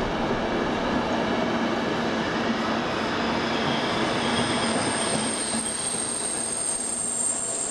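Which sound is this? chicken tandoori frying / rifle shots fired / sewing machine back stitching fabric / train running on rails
train running on rails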